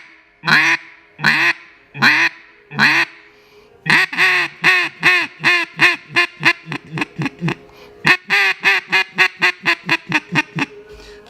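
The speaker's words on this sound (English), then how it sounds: "So your little soft quack." Duck call blown for a soft quack, tuned with a timber insert, giving clear nasal quacks at close range: four spaced single notes, then a long rapid run of quacks that tapers toward the end, with no voices.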